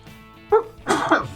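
A man's sneeze live on air during a radio talk show, a short sharp burst followed by a louder, longer explosive release, close to the microphone.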